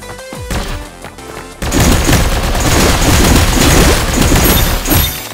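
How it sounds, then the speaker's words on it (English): Machine gun fire in the Barbearian mobile game: after a few separate shots and clanks, a sustained, loud rapid burst of gunfire rattles on for several seconds with dense impacts, tapering off at the end. "I have a machine gun."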